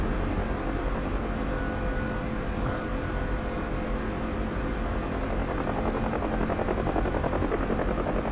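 Steady, loud rotor roar and engine drone of a Huey helicopter in flight in a combat flight video game, continuous and close throughout with no speech.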